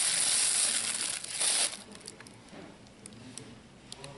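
Crinkling plastic bag wrapping handled while unboxing a 2021 G-Shock MTG Mud Master watch, a close, dense rustle for about a second and a half that settles into soft, sparse crackles.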